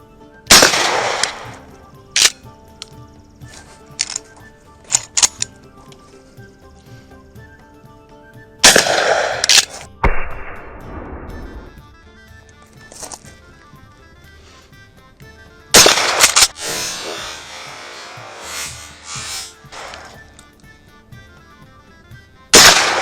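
Shotgun blasts at orange clay targets set at 10 and 25 yards, fired as a Mossberg 500 and KelTec KSG home-defense comparison: loud, sharp reports in irregular clusters with quiet gaps and ringing decay between them.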